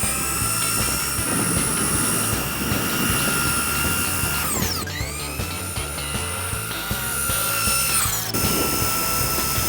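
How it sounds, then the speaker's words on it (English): A Bosch 36-volt Bulldog drill driving a homemade go-kart gives a steady, high-pitched motor whine, briefly dipping and recovering in pitch, with faint road and rolling noise underneath. "the 36-volt Bulldog drill to make this thing go"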